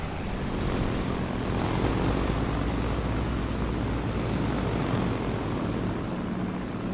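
A Nakajima Ki-43-II fighter's piston engine drones steadily in flight in a video game, a loud, even propeller roar that holds without a break, with no voices.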